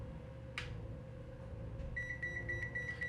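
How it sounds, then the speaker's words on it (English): BSIDE ZT-M1 multimeter sounding its high-voltage alarm after being pushed past 1,000 volts, a series of quick, evenly spaced high beeps starting partway in over a low steady hum, faint and close. "We have a high voltage alarm."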